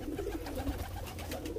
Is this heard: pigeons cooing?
yes